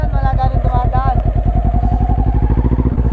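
A motorcycle engine thumps in a fast, even rhythm while being ridden on Mt. Samat, loud and close, with a voice talking over it through much of the clip.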